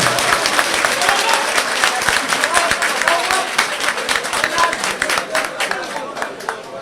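An audience applauds an official at an inaugural ceremony for a federation's new headquarters in Luanda, sustained dense clapping from a crowd with some chatter mixed in throughout.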